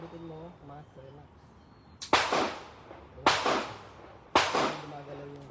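Three sharp, loud gunshots crack out at irregular intervals, each trailing off quickly, with faint talk in the background between them.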